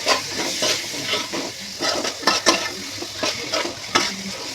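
Tomatoes and onions for a chicken curry frying in a pan, a steady close sizzle broken by repeated scraping strokes of stirring, with no voices.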